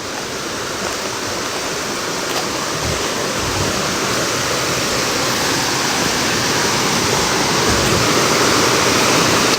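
A river rushes loudly and steadily, a dense roar of fast water that swells a little stronger over the span, with no other sound breaking through.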